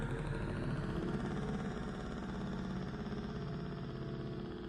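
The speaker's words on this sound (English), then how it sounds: "there's a motorcycle sound effect there" Motorcycle engine sound effect within a Dawn of the Dead film score, a steady mid-pitched engine rumble running continuously and fairly loud beneath the music throughout.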